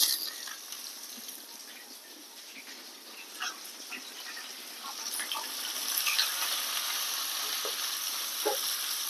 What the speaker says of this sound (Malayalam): കറിവേപ്പില, നമുക്കിതിലേക്ക് ഉള്ളി ഇട്ട് കൊടുക്കുക.